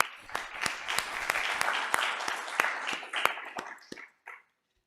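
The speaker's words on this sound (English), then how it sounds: "So a round of applause to the three authors." A conference audience in an amphitheater claps for three paper authors: sparse, distinct hand claps in an uneven rhythm that thin out and stop after about four seconds.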